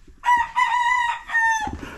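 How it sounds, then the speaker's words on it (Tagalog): Roosters crow in a rural province village in Barangay Tagkatong, Carmen, Agusan del Norte, two loud, close cock-a-doodle-doo calls in quick succession with chickens clucking around them. "Ang tunog ng mga manok."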